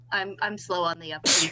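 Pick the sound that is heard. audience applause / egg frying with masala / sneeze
sneeze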